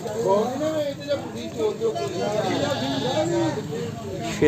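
Desi goats crossbred with Barbari bleat repeatedly at a rural goat market in Muktsar Sahib, their wavering calls close and overlapping while someone talks over them.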